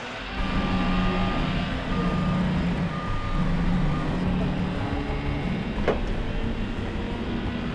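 A big new tow truck's reversing alarm beeps in a steady, evenly spaced series over a constant diesel engine rumble, loud and close.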